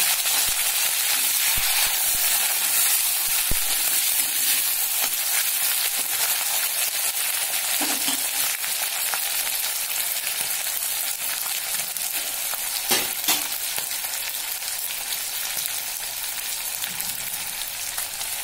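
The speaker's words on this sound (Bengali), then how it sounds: "ঝিনুকের মাংসগুলো এবারে আমরা খুব ভালো করে ভেজে নেব।" Washed oyster meat fries with panch phoron in a pan for a Bengali-style oyster curry, producing a loud, continuous hissing sizzle with fine crackles and a few faint stirring knocks throughout, close up and without speech.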